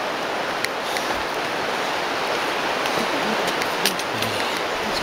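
Steady, dense rush of flowing water in a jungle stretch of the Inca Trail in Peru, a continuous broadband wash with no breaks, fairly close and even in level throughout.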